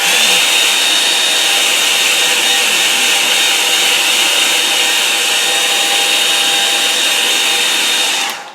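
A hair dryer blows steadily on a watercolour painting of a distant shore, a loud, even whoosh with a faint whine running close for about eight seconds before cutting off at the end.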